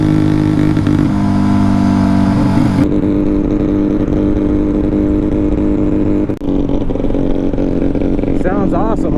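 A Honda Dream motorcycle engine revs hard and steadily, a loud, close, sustained mechanical roar with shifting pitch, while people talk over it.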